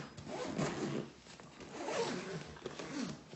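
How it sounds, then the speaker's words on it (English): A zipper runs along the top of a duck blind bag as it is closed, giving several close, scratchy rasping pulls in a steady rhythm with no talk. "When this top zips up,"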